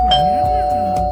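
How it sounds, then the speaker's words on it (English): Doorbell ringing with a sustained electronic tone, clear and close, while a voice talks over it. "It's the doorbell."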